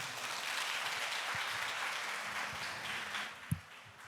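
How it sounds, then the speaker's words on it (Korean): Audience applause at a conference during a global leaders' dialogue event in Korea: a steady, fairly soft wash of clapping lasting about four seconds, with no voices. "다시 한번 박수 부탁드립니다"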